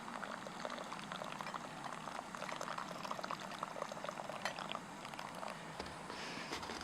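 A thin stream of water trickles and pours steadily over coffee grounds, with faint bubbling and fizzing throughout, close and fairly quiet.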